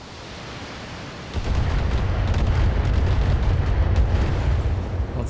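Mech weapons fire in the BattleTech video game, opening with a sudden heavy boom at about one second that gives way to a sustained loud, rumbling barrage of blasts and explosions running to the end.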